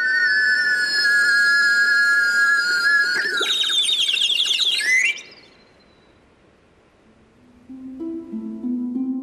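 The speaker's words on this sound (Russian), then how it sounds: "свистку, издававшему трели, похожие на птичьи" A bright, high whistle of the kind Heron of Alexandria built trills and warbles steadily like a bird, rising into a busy flutter before cutting off, followed by quieter low tones after a pause.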